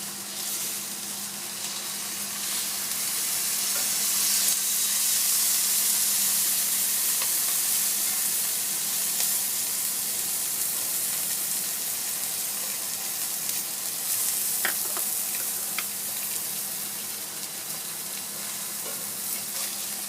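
Silver cod fillet pan-frying with herbs, a steady close sizzle and crackle of oil running throughout, swelling slightly midway, with a few sharp spits near the end and no talk.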